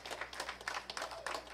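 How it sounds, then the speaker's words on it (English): A church congregation claps in quick, irregular bursts, faint and somewhat distant, with scattered hand claps rather than a full roar. "Give the Lord a great hand clap."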